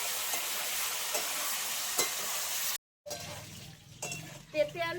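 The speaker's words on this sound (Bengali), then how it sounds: "এবার আমি পেঁপে আলুটা দিয়ে দেব। করতে করতে পেঁপে আলুটা আগে ভালো করে একটু ভেজে নেব।" Pieces of papaya and potato hiss and crackle in hot oil while a spatula stirs them with light scrapes and clinks; the frying cuts off abruptly, and afterward quieter stirring sounds and a voice follow.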